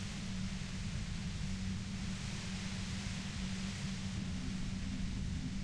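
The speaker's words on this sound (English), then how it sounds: "The violent white noise becomes even more overwhelming closer to the compressor." Dense, steady white noise near a compressor in Disco Elysium fills the whole spectrum without a break, with a constant low hum underneath, loud and overwhelming throughout.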